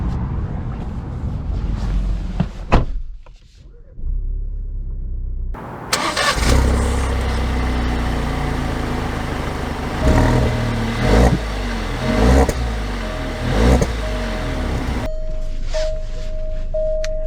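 A 2023 Alfa Romeo Stelvio Estrema's engine cranks and starts after a few quiet seconds, then idles loud and close with several short revs, and the steady idle goes on until the end.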